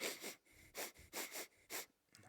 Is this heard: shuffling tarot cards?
no